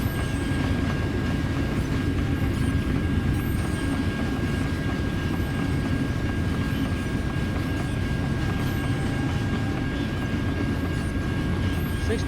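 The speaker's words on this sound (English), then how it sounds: "If there's anything good about this long train" A long freight train rolls past in American Truck Simulator, a steady rumbling clatter of rail cars that holds at an even, loud level for the whole stretch without letting up.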